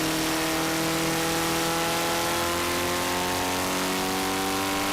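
A vintage race car at the VARAC Vintage Festival on the Mosport track downshifts before a decreasing-radius right-hander, its engine note stepping and rising in steady harmonic lines, loud and close throughout with no talk.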